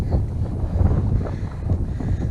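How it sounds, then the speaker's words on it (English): Wind buffeting the microphone on Hallin Fell during a December wild camp, a steady close rumbling roar with gusty swells throughout. "It's a bit breezy, like."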